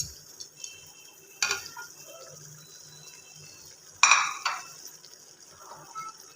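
A spoon stirs spices and tomato paste into fried mutton in a pot, giving a few sharp metallic scrapes and clinks against the pan amid quiet kitchen background, with no talking.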